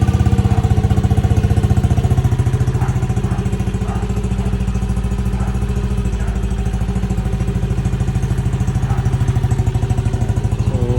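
A Yamaha Aerox v2 scooter engine runs at a steady, loud, close idle with an even rapid putter, alone without talk for the whole stretch.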